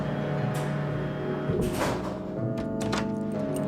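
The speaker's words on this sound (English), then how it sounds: "Another secret door." A secret door slides open in a 1993 Spirou cartoon episode, a mechanical scraping and thudding sequence with sharp knocks near the middle and end, layered over a continuous musical score, no talking.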